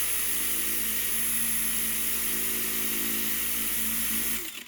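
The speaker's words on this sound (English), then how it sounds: "take the same wire wheel and scrape away all this gunk here" A power wire wheel grinding grease and rust off a front brake part from a 2013 Fiat 500, a steady loud whirring scrape held throughout before spinning down at the very end.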